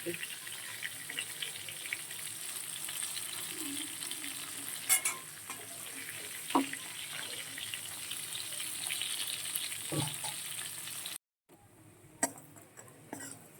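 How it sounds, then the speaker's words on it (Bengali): Bori lentil dumplings fry in oil with a continuous faint sizzle, punctuated by occasional clicks of a utensil stirring, with a brief silent gap near the end. "বড়িটা দেখো লাল লাল করে ভেজে নিচ্ছি"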